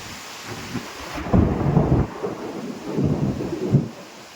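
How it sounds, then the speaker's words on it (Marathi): Heavy unseasonal rain pours down in a Konkan storm with gusty wind, thunder rumbling in several loud swells over a steady wash of rainfall, close and continuous with no voices. "पाऊस आता भरपूर पडता."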